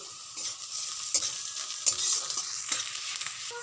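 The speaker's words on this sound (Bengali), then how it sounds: "তারপরে দিয়ে দেবো আদা কুচি দিয়ে ভালো করে কষে নেব" Chopped onion, garlic and ginger sautéing in a pan: a soft, continuous sizzle broken by several distinct scraping strokes of a spatula, close and moderate in level, with nobody speaking.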